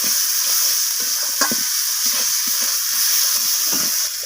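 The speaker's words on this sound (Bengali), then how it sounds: "লবণটা দিয়ে আমি আবারও নাড়াচাড়া করে কষিয়ে নিচ্ছি" Spice mixture being stirred and sautéed with salt in a hot pan: a continuous close sizzle with repeated scraping stir strokes at a quick, uneven rhythm.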